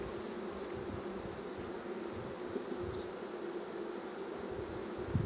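Honeybees buzz steadily during an overdue hive inspection of a struggling colony, a continuous close, low drone with a few louder moments of bees passing near.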